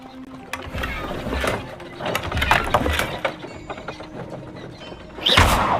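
Enchanted carts move along in the Hogwarts Legacy video game, giving off a clattering, ratcheting mechanical rattle with creaks and knocks that keeps going at a moderate level, then ends in a brighter swell.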